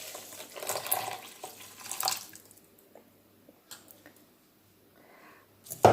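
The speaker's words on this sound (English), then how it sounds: "I'm going to add the stock" Stock poured onto bulgur wheat in a large bowl, a splashing liquid pour lasting about two seconds, followed by quieter drips, small clinks and soft handling noises nearby, with no talking.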